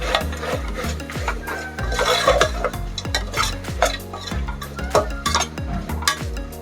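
Beef fry is stirred with crushed spice paste in a pan, a rhythmic rasping scrape repeating roughly twice a second, close and steady over a faint tonal background.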